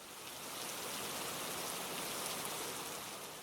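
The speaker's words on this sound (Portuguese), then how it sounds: "Às 3 horas da tarde começou uma chuva intensa." Heavy rain falling in a steady, dense hiss that swells in at the start and holds constant, soft and moderately distant with no other sounds.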